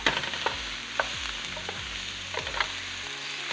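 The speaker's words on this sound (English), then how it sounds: "We've already sauteed the onions, then garlic, And now the mushrooms have gone in." Mushrooms with onions and garlic sauté in a pan, giving a steady close sizzle while a utensil scrapes and stirs in several distinct strokes.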